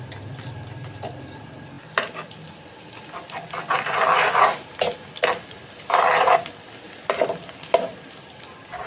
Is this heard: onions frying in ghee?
yes